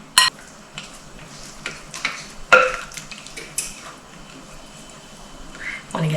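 Utensil stirring a cheese and egg mix into melted butter in a pot for savory kugel mac and cheese, with scattered scrapes and clinks against the pot and a voice talking between them.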